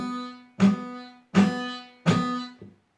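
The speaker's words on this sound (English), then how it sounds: "you're simply not applying enough pressure onto the strings with your fingers. And you're probably getting a sound like this." Three guitar notes fretted with too little finger pressure, each a short, dull, muted pluck that fades quickly, struck about a second apart and heard alone up close, followed by a fainter fourth damped note.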